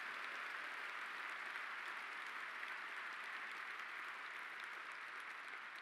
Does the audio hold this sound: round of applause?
yes